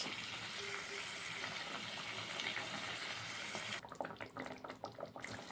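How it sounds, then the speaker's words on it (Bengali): Water pours into a pan of spiced rohu fish curry with a continuous rushing splash, then gives way to bubbling and sputtering for the last couple of seconds. "এখন দিয়ে দেব কিছুটা জল।"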